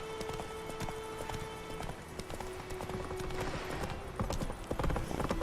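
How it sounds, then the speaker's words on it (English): Horse hooves gallop at a steady clip-clop across the countryside in The Witcher 3: Wild Hunt, close and continuous over game ambience for several seconds. "this sure is a little countryside romp on our horses"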